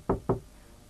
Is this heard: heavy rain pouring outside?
no